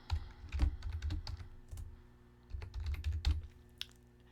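Typing on a computer keyboard, with rapid clusters of close, crisp keystrokes in two bursts separated by a short pause, heard alone without talk.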